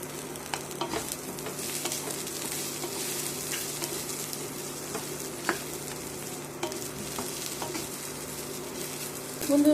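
Bitter gourd stuffing of onion, garlic, ginger and a whole chilli sizzles gently in a little oil, with a soft steady frying hiss and scattered scraping clicks of stirring near the pan.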